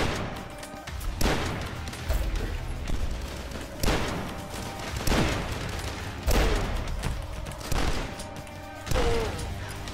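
Hunting rifle fire in the video game Dusk: about seven loud, sharp gunshots, each with a booming tail, spaced roughly one to two seconds apart over a murky background.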